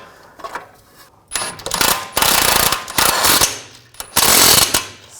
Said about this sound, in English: And I'll tighten down the nut.